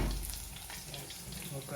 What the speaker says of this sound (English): frying some chicken